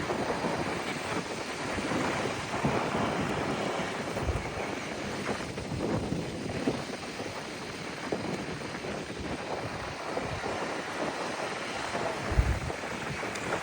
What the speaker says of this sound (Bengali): বিশেষ করে এত সুন্দর ঠান্ডা বাতাস